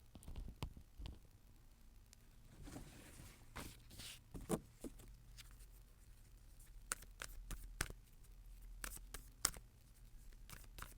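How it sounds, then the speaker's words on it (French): Oracle cards being shuffled by hand, a run of soft papery riffles, taps and brushing slides close by, irregular and fairly quiet, with no voices. "je vais mélanger les cartes"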